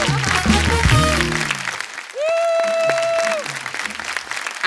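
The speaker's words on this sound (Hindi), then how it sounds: "खैर एक बार कपिल शर्मा शो की फैमिली के एक बार जोरदार ताली हो जाए।" Audience applause on a TV comedy show set breaks out amid music stings and a sustained synth tone, the clapping loud and broad throughout.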